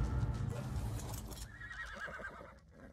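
Horse whinnying in the video game ARK: Survival Evolved, a descending neigh that fades out over a dense, rumbling game soundscape.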